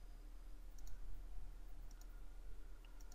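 Soft, sparse mouse clicks, a few faint paired ticks spread over a few seconds against a low steady hum, with no talking.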